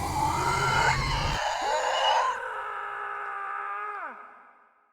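A man in a sci-fi horror tale lets out a long, drawn-out scream that rises out of a noisy burst, holds steady, then drops in pitch and fades away.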